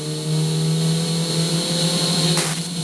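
A Ferrari 488 Challenge EVO race car engine drones at a steady, loud, unchanging pitch while held in one gear on a track. A brief sharp burst cuts in near the end.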